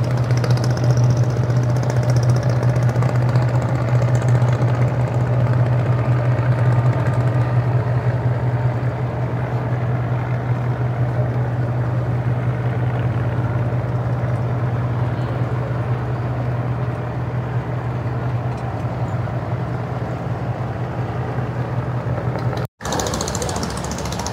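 A passenger launch pulls away from Dhaka bound for Chandpur, its diesel engine holding a loud, steady low drone with a rumbling hum that runs unbroken, cut only by a brief dropout near the end.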